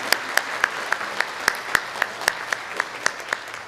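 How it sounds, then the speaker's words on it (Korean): A church congregation at a Sunday worship service claps to welcome newcomers, a fairly steady rhythmic applause with regular sharp individual claps standing out over the softer mass of hands, heard from a moderate distance in a large room. "잠깐 일어서시면 박수로 환영하도록 하겠습니다."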